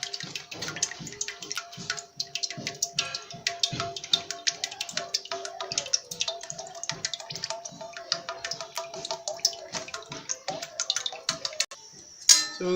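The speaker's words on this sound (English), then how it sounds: "So you require a whole lot of oil to be poured." A litre of cooking oil pours into a pot for frying puff puff, heard as a long run of close, irregular glugging ticks and splashes with no talking.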